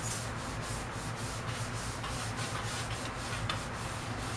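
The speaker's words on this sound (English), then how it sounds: "we go over our surface really well. However big your cleaning surface is, my sanitizer, my citrus, my Barbicide wipes." Barbicide disinfectant wipes rubbed over a barbershop work surface: close, steady brisk scrubbing strokes in an even repeating rhythm, alone.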